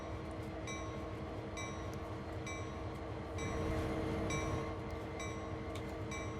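A train moves through the Sherman Hill route in the video game Train Sim World 2. A steady rail rumble runs under repeated tonal electronic beeps, with the noise swelling briefly partway through.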